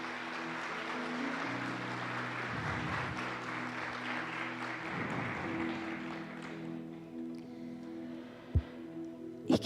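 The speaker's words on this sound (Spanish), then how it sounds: "dele ese aplauso a Él" Applause from a church congregation during a Spanish-language worship service, a steady wash of clapping that holds for several seconds before thinning out, with a few sharp knocks near the end.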